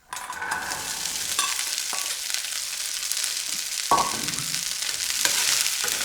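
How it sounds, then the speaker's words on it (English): Green beans tossed into hot oil with a green chili set off a steady, close sizzle lasting several seconds, punctuated by a few sharp clicks and scrapes of stirring and no voices. "I'm going to add the green beans to this"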